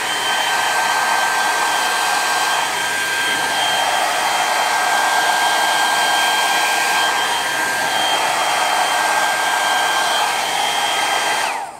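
Hair dryer running on its high setting with a concentrator nozzle fitted, a loud, steady airflow roar with a whining tone that holds throughout, with no voices.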